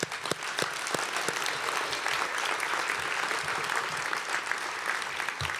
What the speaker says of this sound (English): Big round of applause for all of our bigs and littles of the year.